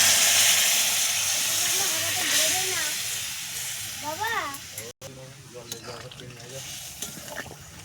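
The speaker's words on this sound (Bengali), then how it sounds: "সুন্দর করে মশলা থেকে তেল ছেড়ে দিয়েছে, এবার ঝোলটা ঢেলে দেব।" Fish curry gravy hits hot spiced oil with a loud hiss and steamy sizzle that gradually settles, while a voice talks over it and a sharp clank cuts in midway.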